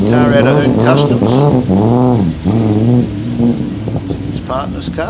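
A Hoon Customs muscle car rolls in close and loud, its engine revved repeatedly in rising and falling blips before settling to a rougher idle.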